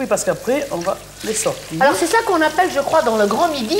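Sea bass fillets fry in hot oil, a soft sizzle running beneath continuous conversation between two people in French.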